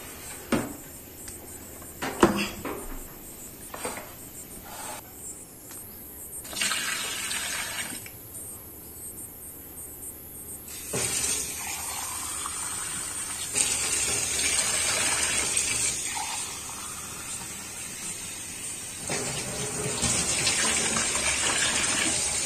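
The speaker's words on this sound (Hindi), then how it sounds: "तो इसमें पानी डालेंगे ऊपर से" Water poured in from the top of an Aquaguard Reviva NXT RO UV water purifier tank, a gushing splashing flow that comes in bursts, pauses, then runs steadily and grows louder as the tank fills.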